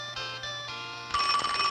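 Telephone ringing in an old 16mm educational film about magnets, a short electric bell trill that pulses in bursts and then swells brighter and louder near the end.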